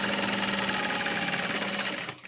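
A sewing machine stitches main bag panels at a fast, steady whir with a rapid needle rhythm, loud and close, slowing to a stop at the very end.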